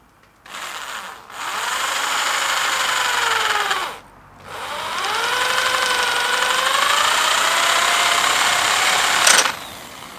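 A power drill whines steadily through the wooden handle of a millpick in two long runs, pitch sagging under load, with a brief pause between them and a sharp stop at the end.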